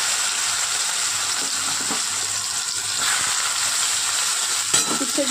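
Bitter gourd slices go into hot oil over fried five-spice tempering and fry with a loud, continuous close sizzle, with a few sharper spits and crackles near the end.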